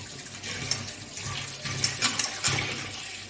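Cauliflower being rinsed under a running kitchen tap, a steady low wash of water with brief splashes and clatters as the vegetable is turned by hand, close and fairly quiet, no talking.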